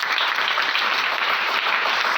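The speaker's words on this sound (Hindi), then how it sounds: "तालियां होनी चाहिए" Loud, dense applause fills the hall as a motivational-seminar audience claps for a participant, an unbroken wash of many hands clapping with no voices on top.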